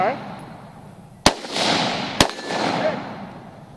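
Two sharp rifle shots at an outdoor shooting training class, about a second apart, loud and fairly close, each followed by a short echoing decay over low background noise.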